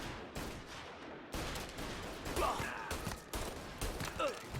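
Gunshots in Mafia Definitive Edition ring out as a rapid series of sharp bangs, loud and close, mixed with voices and some game noise.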